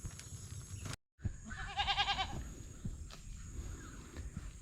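A pet goat tethered beside a rice paddy bleats once in a wavering, quavering cry, fairly close and moderately loud, amid quiet outdoor background after a brief dropout.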